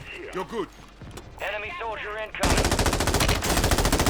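Rapid automatic gunfire from the video game Warzone bursts out loud and continuous in the second half, after a stretch where a player talks excitedly over game sounds.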